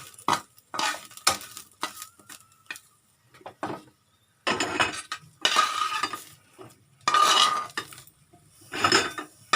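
Chili paste ingredients are stir-roasted in a pan, with a spatula scraping and clattering against the metal in irregular bursts, close and clear, and soft dry sizzling between strokes.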